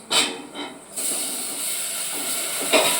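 Tomatoes hit frying onions in a pan for sambar, giving a few short hissing bursts that settle into a steady, bright sizzle, close and moderately loud with no talking.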